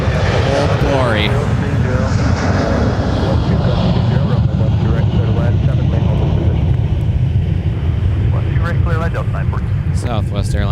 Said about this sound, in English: Southwest Airlines now making a break out of here for Midway, Chicago.